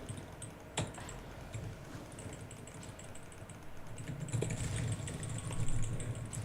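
Computer keyboard keys mashed rapidly during a League of Legends game, a fast irregular patter of clicks over a low steady hum, fairly close and with no talk.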